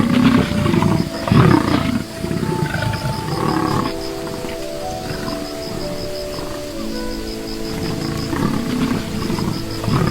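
A male lion roars in the wild, a deep, loud roar in the first two seconds followed by a long rumbling tail of grunts, with faint rustling in the background.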